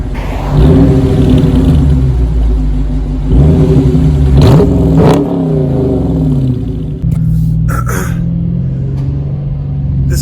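A 2019 Dodge Charger R/T engine is revved repeatedly, loud and close, with deep rumbling swells, sharp rising blips and a throaty idle in between.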